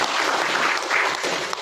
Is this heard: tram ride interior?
no